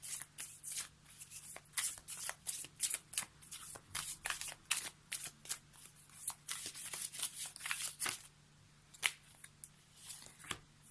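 Oracle cards are shuffled for a daily card reading, giving a steady run of quick papery riffles and flicks close to the microphone, with no talking.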